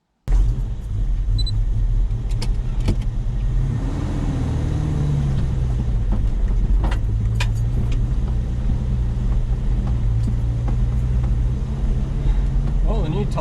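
A 4x4 with a cammed TB42 engine and new tyres rumbles steadily through mud, a low continuous engine drone heard from inside with faint knocks and creaks.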